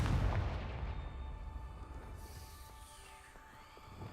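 A Confringo spell blast in the video game Hogwarts Legacy booms loudly at the start, then a fiery rumble trails off over several seconds with faint tonal ringing behind it.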